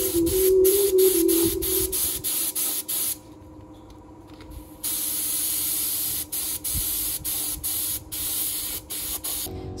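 A spray gun lays a thin coat of red oxide primer on the side of a shipping container. The hiss is loud and close and comes in bursts, cut by a longer pause partway through, with no voices.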